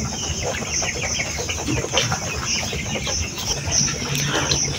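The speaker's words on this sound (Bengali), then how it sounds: "এই ঘরেও কিছু মুরগি আছে একই বয়সের" Chickens of the same age clucking inside a small poultry shed on a Bangladeshi farm, a dense, continuous bed of overlapping bird calls at steady volume with no talking.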